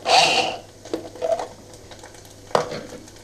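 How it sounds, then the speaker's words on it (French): Sliced mushrooms sizzle and are stirred in a pan, with scraping bursts of a utensil against the pan over a soft, steady frying hiss. "les champignons émincés sont en train de revenir gentiment"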